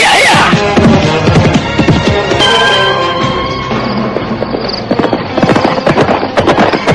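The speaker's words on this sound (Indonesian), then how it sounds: "Mereka terus berkuda menyusuri gelapnya malam menuju tebing Sungai Pedanten." Horses galloping by night in an Indonesian radio drama, with loud, close rhythmic hoof clip-clops pounding continuously and a brief whinny.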